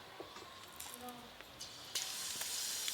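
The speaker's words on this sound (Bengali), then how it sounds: "ইলিশ মাছের তেল ঝালে ফুরনে কালো জিরে দিয়ে দেবো" Black cumin seeds tempering in hot hilsa fish oil, a faint sizzle with scattered pops and crackles that swells into a steady, brighter hiss partway through.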